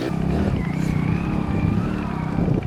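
A car speeding away in a hurry, its engine revving hard and steadily close by with a rising tonal whine throughout a short burst of acceleration.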